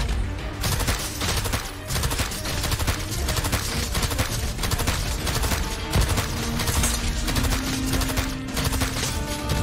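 Dense, continuous weapon fire from the tower-defense game Arknights, rapid machine-gun-like bursts and barrage hits filling the whole stretch at a loud, steady level with no talk.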